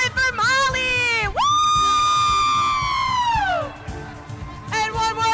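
A college audience at an Irish dance club showcase cheers loudly, with shrill whoops and long rising-and-falling whistles over a dense crowd roar.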